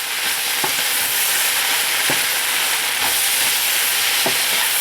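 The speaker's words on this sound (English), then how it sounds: "And I'm gonna mix this up." Singapore mai fun noodles being stirred with sesame oil in a hot pan, a steady loud sizzle and frying hiss with several soft scraping stir strokes, no talking.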